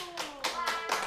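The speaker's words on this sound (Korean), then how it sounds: "벌써 박수를 치십니까?" Students in a classroom clap in a few quick, bright bursts, with a voice speaking over the applause.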